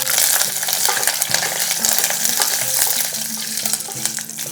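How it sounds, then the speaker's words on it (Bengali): Curry leaves and two dried red chilies hit hot tempering oil, giving a loud, dense crackling sizzle close up, with stirring scrapes through it and no voices. "এরপর এখানে দিয়ে দেবো কিছুটা কারি পাতা, সাথে সাথেই দিয়ে দিচ্ছি 2টো শুকনো লঙ্কা"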